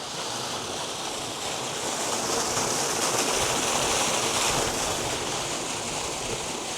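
Water gushes from a pipe fed directly from a farm bore-well, a loud, steady rushing and splashing that continues without pause.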